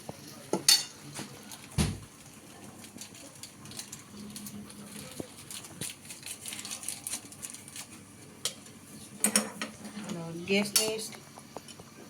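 Pasta being stirred in a pan over low gas, with repeated scraping and clinking of a utensil against the metal, a few sharp knocks, and a voice talking softly in between.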